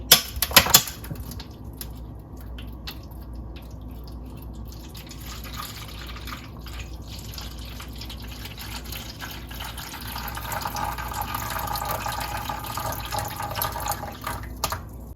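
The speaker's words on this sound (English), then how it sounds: "Gonna pour some hot water into this." Hot water pours and trickles quietly into a baking dish, the liquid sound growing fuller and louder toward the end.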